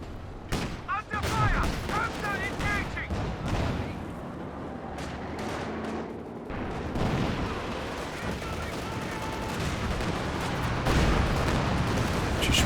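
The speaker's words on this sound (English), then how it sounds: "we have some tank artillery coming in. Tank commander artillery." A tank commander's artillery barrage in a real-time strategy game, repeated booming shell impacts and crackling gunfire layered into a busy battle din, with a commentator talking over it throughout.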